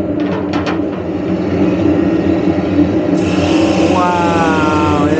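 A loud, steady machine roar with a rough grinding hiss as a woodworking machine sands a wooden truck camper table; a higher mechanical whine joins partway through.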